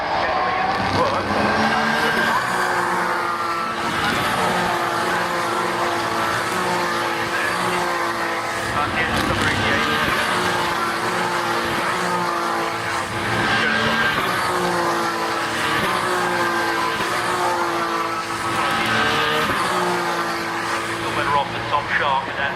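British Touring Car Championship race cars thunder back over Hilltop during qualifying: loud roaring engines, repeated passes and tire squeals fill the whole stretch, with a commentator talking over the top.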